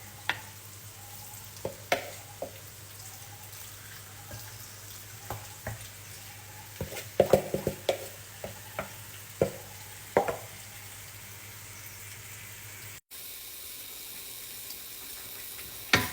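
Pork pieces dropped into a pan with a little cooking oil sizzle steadily at close range, with scattered sharp pops and crackles throughout; the sound drops suddenly quieter near the end.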